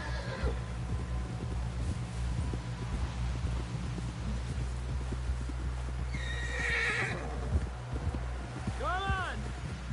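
Horse whinnies and clip-clopping hooves in Red Dead Redemption 2, steady trotting under a low rumbling bed, with a sharp neigh near the end and voices talking in between.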